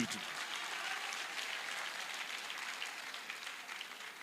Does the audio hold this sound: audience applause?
yes